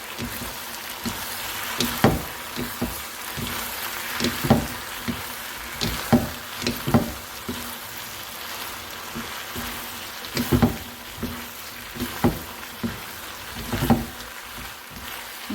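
Pepper chicken with green chilli and sauce fries in a pan under a constant close sizzle, broken by regular spatula scrapes and knocks as the mixture is stirred, with no talking.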